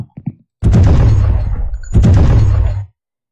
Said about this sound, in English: So that's how I have achieved these multiple shots for the shotgun.